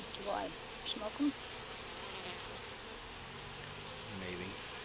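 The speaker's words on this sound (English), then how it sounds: "Those bees." Faint, continuous buzzing of honey bees hums in the background during a colony cut-out removal, with a few brief knocks and rustles near the start.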